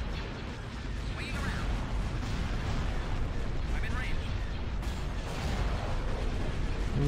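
Ion torpedoes fire in the space strategy game Star Wars: Empire at War, a run of booming, rumbling blasts over a continuous dense noise bed, with a few brief tonal sweeps rising out of the mix.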